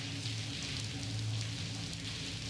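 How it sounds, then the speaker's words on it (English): Steady pouring rain in the point-and-click adventure game Blackwell Convergence, a constant even wash of downpour with a low ambient hum beneath, no voices. "It's pouring cats and dogs out here."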